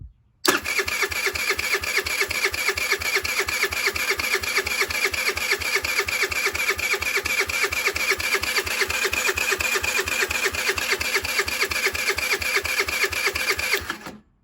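A 2007 Diamo Retro 50 scooter with a GY6 engine cranks over on the starter without firing, a fast, even, mechanical churning that runs unbroken for about fourteen seconds and then cuts off.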